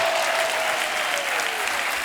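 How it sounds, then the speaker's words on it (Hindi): A studio audience at a televised comedy talk show claps loudly for the guests. The applause is a short, steady burst with no other sound. "एक बार जोरदार तालियां हमारे मेहमानों के लिए"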